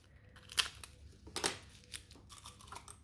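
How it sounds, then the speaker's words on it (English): Scissors snip a small piece of silver foil for a nail design, giving a few quiet, sharp crinkly cuts spaced irregularly, close and faint. "a piece of the silver foil. So just a wee small piece. Cut it with the scissors."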